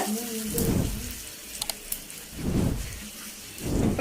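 Curry leaves and asafoetida splutter and crackle in hot oil, a South Indian tempering for Andhra-style egg podimas, heard as bursts of sizzling pops that rise and fall with a voice in between.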